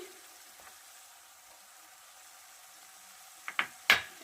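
Dahi paneer cooks in a pan with a faint, steady frying hiss while ground spices are added, then a few sharp scraping stirs land near the end.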